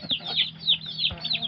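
A hen clucks in a short series of quick, throaty calls, close by and fairly clear, with no talking.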